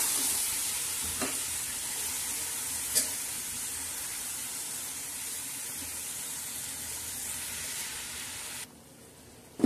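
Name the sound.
cluster beans being stirred and fried in a pan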